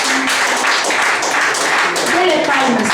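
A church congregation claps in praise during a Spanish-language sermon, loud rhythmic clapping filling the room, with voices and singing mixed underneath.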